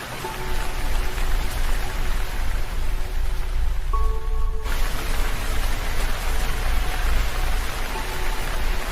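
Steady rain falling outdoors, an even hiss of drops filling the whole stretch, loud and continuous with faint tonal hints and a brief quieter gap midway, no voices.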